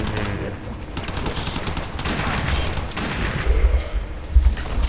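Rapid Lex pistol fire in the Warframe video game, a burst of loud, close shots in quick succession amid game noise, with a couple of heavier booms near the end.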